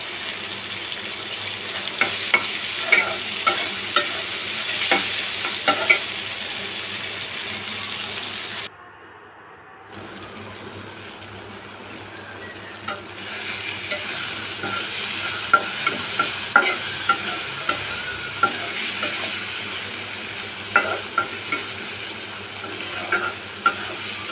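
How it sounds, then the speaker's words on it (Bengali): Dried fish (shutki) frying in a pan over medium-low heat, a continuous close sizzle broken by repeated clicking, scraping stir strokes, with one brief silent gap partway through. "ভালো মতো নেড়ে চেড়ে শুটকিগুলোকে ভেজে নেবো"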